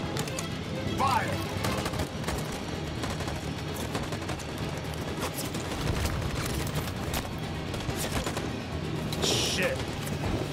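Troops fire guns during a revolution battle in Detroit: Become Human, with dense, continuous bursts of rapid gunshots and sharp cracks over a steady roar for the whole stretch, voices faintly audible beneath.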